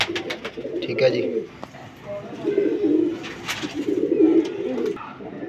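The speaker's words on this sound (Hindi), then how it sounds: "सलारा कबूतर" Salara pigeons coo in soft, low, rolling bursts, close by and repeated several times, with someone talking over them.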